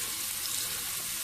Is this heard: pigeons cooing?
no